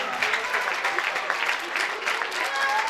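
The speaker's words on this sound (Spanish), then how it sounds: "Les damos un fuerte aplauso" An audience at a didactic music concert gives a steady burst of applause: dense, continuous clapping at fairly close range, lasting for the whole stretch with no gaps.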